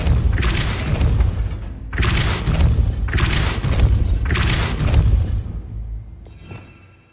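Depulso force spell cast in the Hogwarts Legacy video game, a series of loud booming blasts with thudding impacts in quick succession, each burst heavy and close before the sound fades away at the end.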